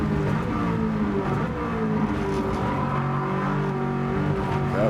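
Race car engine in Gran Turismo 7 on a hot lap, holding a loud, steady drone whose pitch falls as the car brakes, with faint tyre squeal, close and continuous with no talk.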